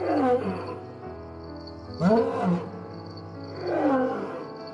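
Lions roar at night on the savanna: three deep, drawn-out roars spaced about two seconds apart, loud and fairly close, over a constant high insect drone.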